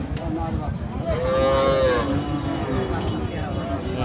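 A cow gives one long, drawn-out moo at a busy livestock market where cows and calves are sold. People talk steadily around it, and crowd noise continues underneath.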